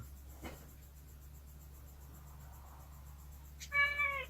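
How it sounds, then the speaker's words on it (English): A pet cat meows once, close and fairly loud, near the end of an otherwise quiet indoor stretch with a faint low hum. "That's our cat Shiloh."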